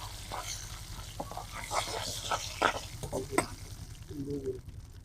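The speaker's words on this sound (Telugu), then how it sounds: "రెండు కరివేపాకు రెబ్బల్ని వేసుకొని ఇలా వేయించుకున్నాం ఆవాలు జీలకర్ర చిక్కట్లాడేదాకా ఉంచుకుంటే" Mustard seeds, cumin and curry leaves fry in hot oil as a soft sizzle with small crackles and pops, under scattered clinks and stirring knocks, fairly quiet and close.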